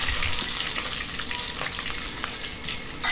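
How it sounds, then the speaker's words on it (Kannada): Chopped onions fry in oil with mustard, fennel and cumin seeds, giving a loud, steady, close sizzle with faint crackles and occasional stirring scrapes. "ಹಾಕಿ ಚೆನ್ನಾಗಿ ಫ್ರೈ ಮಾಡ್ಕೋಬೇಕು."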